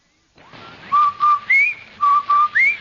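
A tuneful whistle of several short held notes, some sliding upward, played alone against a quiet background.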